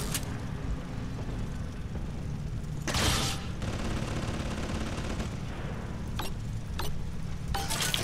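Gunfire from a mini turret in the video game BioShock 2: sharp bursts of shots crack out at intervals over a constant low rumble of game ambience, with no voices.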